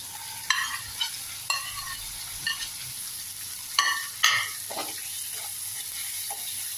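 Potatoes frying in a pan for a potato curry, a soft, low sizzle under a handful of sharp clinks and scrapes as a spoon strikes the pan, with no voices.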